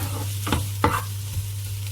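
Pork and rice noodles being stir-fried in a pan, a steady sizzle under a low hum, with a few brief scrapes and stirring knocks close up.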